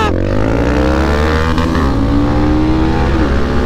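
Two motorcycles, a Benelli TNT25N and a Pulsar N250, accelerate hard in a drag race, their engines climbing steadily through rising revs with audible gear shifts, loud and close throughout.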